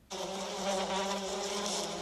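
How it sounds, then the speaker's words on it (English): Close, steady buzzing of bees that starts suddenly and holds a continuous droning hum with slight wavering, alone without voices. "The bees are buzzing around."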